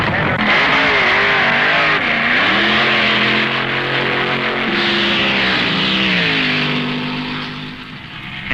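A 1969 NHRA US Nationals drag race launches loud and close: George Montgomery's overhead-cam Ford Mustang against Ron Ellis's blown Hemi Chrysler Trick T, engines screaming and rising in pitch as they accelerate away, then fading.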